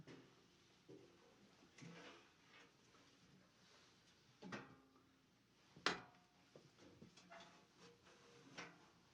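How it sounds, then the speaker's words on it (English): A chair being picked up and moved across a room, with scattered knocks and scrapes, one sharp clatter in the middle and lighter shuffling around it, close by and fairly quiet. "Actually, I'm just going to grab that chair."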